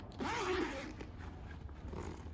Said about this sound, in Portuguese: Vou mostrar aqui o zíper para vocês, como ficou nosso zíper.